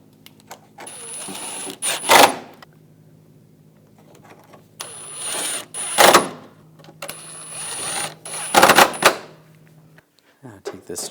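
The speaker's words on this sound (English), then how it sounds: "Take the bolts, tighten those down." Bolts tightened with a ratchet on the front bumper of a 2014-2018 GMC Sierra: three bursts of rapid close clicking separated by pauses, with someone talking in between.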